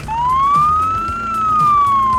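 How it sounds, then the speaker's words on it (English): A single electronic police siren on a Škoda Octavia in the video game BeamNG wails, rising and falling in a smooth sweep, loud and close, with a low engine rumble underneath. "Wow, like a classic American siren."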